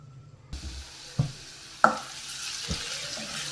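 Ginger, garlic and green chilli drop into hot oil in a pan, starting a soft steady sizzle broken by a few sharp clinks and stirring knocks, with no voices.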